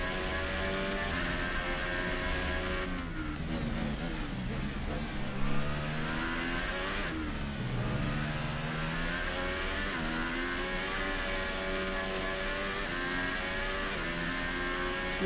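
A Formula 1 race car in the F1 2018 racing game revs and accelerates through rising and falling gear sweeps, its engine loud and continuous while still cold and not warmed up, with no talking.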